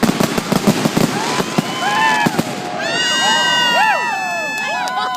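Fireworks bursting at the Carnation fireworks show, a rapid crackle of loud bangs followed by whistling, screaming rockets arcing overhead, with a crowd cheering and talking nearby.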